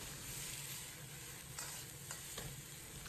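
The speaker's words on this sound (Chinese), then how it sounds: "先放入白菜帮，翻炒几下。 烹入少许生抽，增加鲜香味。" Napa cabbage stems stir-fried in a wok with a splash of light soy sauce for a cabbage and tofu dish, giving a steady loud sizzle with a few scraping stirs near the end, no talk.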